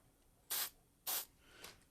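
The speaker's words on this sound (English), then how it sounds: "Just take some dry graphite lube and I just kind of sprayed it." Two short, sharp bursts of aerosol spray as dry graphite lube is sprayed onto the clamp of an old Craftsman arc welder, close and hissing, then a softer third hiss.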